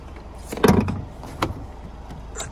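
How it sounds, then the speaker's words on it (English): Rear doors of a Honda CR-V diesel swung wide open: a solid thunk of the latch and door hinge, then a second softer clunk about a second later, close by with no talk. "look how wide the back doors open"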